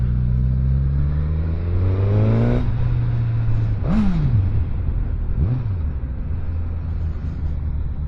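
A Suzuki GSX-S1000 motorcycle engine in B mode pulls hard, its note climbing steeply, then dropping with quick upshifts and rising again, loud and close over steady wind noise.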